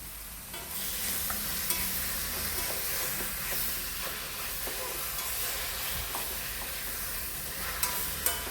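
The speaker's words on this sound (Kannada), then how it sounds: "ಇನ್ನು ನಾವು ತೆಗೆದಿಟ್ಟ ಲಿವರ್ ಮತ್ತು ಗಿಝಾರ್ಡನ್ನ ಹಾಕಿ ಚೆನ್ನಾಗಿ ಮಿಕ್ಸ್ ಮಾಡಿ" Chicken liver and gizzard are stirred in a frying pan on a stove at low heat. A steady, close sizzle and hiss runs throughout, with occasional scraping taps from the stirring and no talking.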